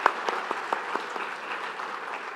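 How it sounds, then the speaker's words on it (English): Audience applause at a Making Strides of Long Island kickoff event, a steady round of many hands clapping with a few sharper claps standing out near the start, filling the room without any voices. "can we give him one more round of applause"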